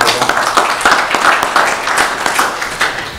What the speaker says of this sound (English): let's give him a round of applause for working on this